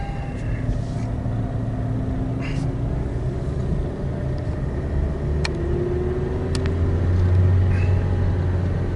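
A 2008 Hyundai Elantra with an output speed sensor fault and no shifting drives on a test ride, its engine and road rumble a steady, loud drone heard from inside the cabin.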